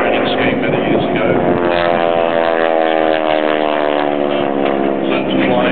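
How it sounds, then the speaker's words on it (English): A Harvard propeller trainer aeroplane, a World War II-era type, flies a solo air show display, its engine a loud, continuous droning roar with a steady harmonic buzz that holds throughout without a break. "the solo display by the Harvard aeroplane that was part of the Empire training scheme many years ago"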